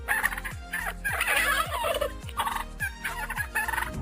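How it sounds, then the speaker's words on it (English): A turkey gobbles again and again in rapid rattling bursts, loud and close, with no other voices. "The turkey is native to North America, and it's one of the largest non-flying birds in the world."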